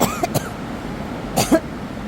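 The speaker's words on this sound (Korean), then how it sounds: "갑자기 목소리가 자꾸 커지니까 기침이 났습니다" Two short bursts of coughing about a second apart, loud and close, over a steady background hum.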